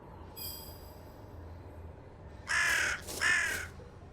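A crow caws twice in the video game Dark City: Florence, two loud harsh calls in quick succession that stand out over a quiet ambient hum with faint chimes at the start.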